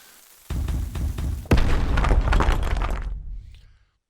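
Explosions detonating in the video game Boom Tycoon 2: a deep boom at half a second, then a heavier blast a second later that rumbles and crackles for about two seconds before cutting to silence.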